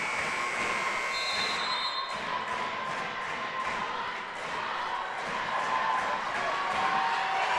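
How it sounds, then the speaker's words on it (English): Loud, steady crowd roar fills a packed Blake Arena during a NEWMAC semifinal college basketball game against Springfield, with a dense wash of noise and a few bright whistle-like tones on top. "But this Lake Arena crowd is really getting into it right now."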